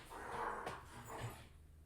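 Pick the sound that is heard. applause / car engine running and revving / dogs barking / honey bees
dogs barking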